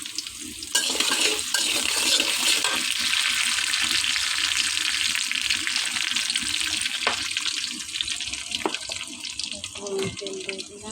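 Chopped onion, whole cumin and five-spice hit hot oil in a home kitchen, giving a steady loud sizzle with scattered stirring clicks throughout.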